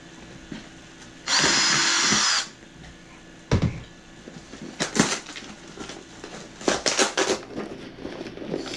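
A power drill makes one loud whirring burst of about a second into an Amazon mystery box, followed by scattered clunks, scrapes and handling noises close by.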